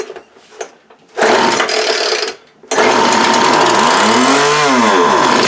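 A Feather Lite FL 1500 leaf blower, a barn find that had sat for years, sputters briefly and then fires up. Its small engine runs loud and close, with a rough roar and a rising and falling rev.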